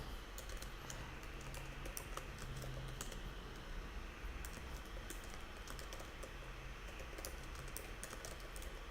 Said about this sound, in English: I will type them out.